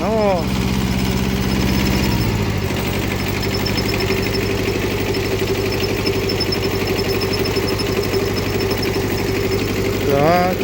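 A steady tractor diesel engine drones and chugs throughout at close range, with brief voices speaking over the running motor.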